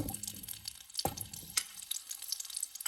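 Ginger, garlic, tamarind, shallots and curry leaves sautéing in a pan for Kerala chammanthi, a faint light sizzle with a couple of sharp utensil scrapes and knocks, close and quiet.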